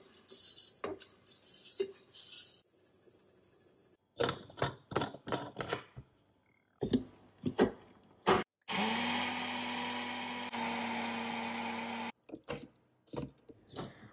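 An electric grinder whirs loudly for several seconds as it grinds toasted cumin and coriander seeds, close and alone, with clicks and clatter of a quiet kitchen before it starts and after it stops.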